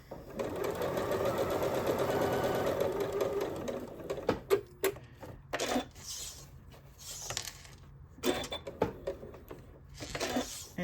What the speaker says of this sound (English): we're going to keep our needle down, lift up our presser foot, and go along the next line